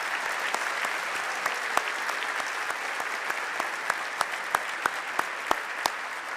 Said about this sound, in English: I do want to start with a great round of applause for all the students that are about to match.